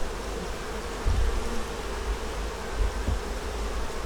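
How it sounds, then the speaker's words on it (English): Honey bees buzz steadily around a double-deep hive box heavy with pollen traffic, a dense close drone with a few louder swells as bees pass near. "see these bees right here?"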